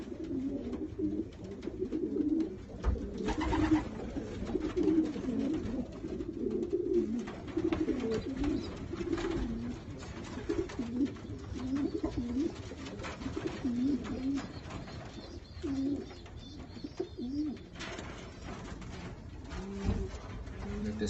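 Racing pigeons coo steadily in a loft, soft repeated throaty calls overlapping one another throughout, with a faint background hum and occasional rustling.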